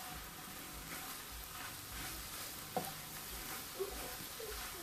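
Food gets stirred in a frying pan under a soft, continuous sizzle, with a couple of brief utensil knocks, close by and fairly faint.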